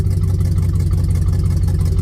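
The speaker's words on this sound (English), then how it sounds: "It's doing that because the engine's shaking a little bit." A 1967 Chevelle engine idles with a vibration, a loud, steady low rumble with a rhythmic shaking pulse throughout and no voices.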